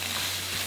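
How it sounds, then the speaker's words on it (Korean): Mushrooms stir-fried in a pan without oil for japchae, seasoned only with salt, giving a steady soft sizzle with faint stirring scrapes and a low hum running underneath. "버섯도 다 볶아졌어요."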